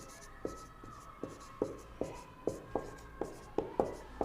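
A pen scratches across paper in close, steady strokes, about nine distinct marks landing in a regular rhythm as someone writes out notes in an English lesson.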